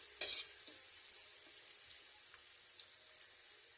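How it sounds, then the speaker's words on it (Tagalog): Broth for an asuhos fish soup boiling in a cooking pot, giving a steady, close bubbling hiss that holds evenly throughout with faint clinks, and no talking. "kapag nakakita na natin kumukulo ang sabaw"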